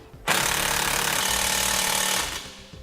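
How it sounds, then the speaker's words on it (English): An impact wrench drives a bolt home on a control arm, fastening it to the spindle during an Air Lift 1000 helper-spring install on a 2010 vehicle. It makes one loud, continuous rattling burst of about two seconds, close by, that then tails off. "before we impact our bolt down into position"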